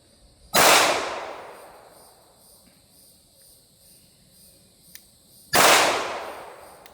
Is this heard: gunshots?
yes